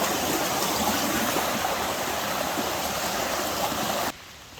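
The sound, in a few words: water stream merging from two directions on a nature trail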